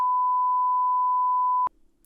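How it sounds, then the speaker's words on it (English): A single steady censorship beep bleeps out names for about a second and a half, loud and alone, then cuts off abruptly into faint room noise. "We'll beep them out"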